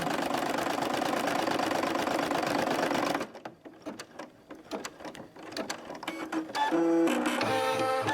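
An embroidery machine stitches a heart and medallion design with a loud, fast, steady mechanical hum, then stops after about three seconds, and scattered clicks and clatter follow as it pauses between stages.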